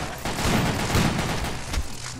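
Rapid gunfire in the zombie survival shooter Zombie Panic! Source, a dense, loud burst of close shots rattling continuously for a couple of seconds.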